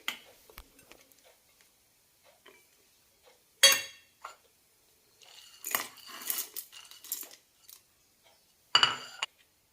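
Coconut cut into small pieces on a kitchen surface for chutney: a few sharp, isolated knife chops and scraping clicks with quiet gaps between them, close and fairly soft.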